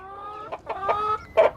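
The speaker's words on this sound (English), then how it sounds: "It's a backyard chicken." Backyard egg-laying chickens on a small South African farm cluck in short, nasal bursts, four or five close calls in quick succession with no talking.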